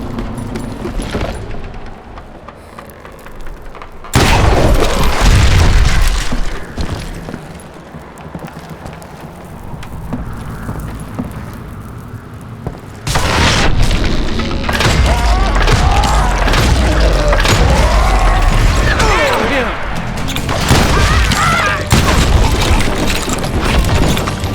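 Dynamite charges blow up in the Wild West shooter Call of Juarez: Gunslinger, two loud sudden booms several seconds apart, each followed by sustained rumbling debris and noise alongside horse hooves clopping.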